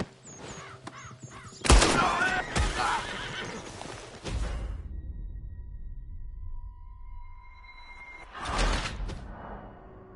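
Red Dead Redemption game audio: a horse lets out a loud neigh and whinny up close, with bird calls and crow caws, clip-clop hooves and a second whinny later against a quiet outdoor background.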